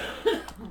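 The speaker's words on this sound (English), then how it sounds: "And cough." A single short cough, fairly quiet and close, in an otherwise calm moment.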